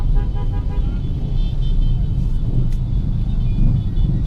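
Congested city street traffic in Makassar heard from inside a car, with a continuous engine and road rumble and short car horn toots breaking through, alongside a passing funeral procession.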